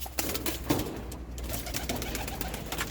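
Pigeon cooing close by, soft low coos repeating against a hiss of background noise, with light rustling between calls.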